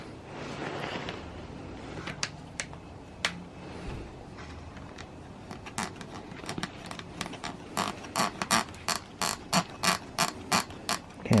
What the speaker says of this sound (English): now you're going to hook up your shock pump.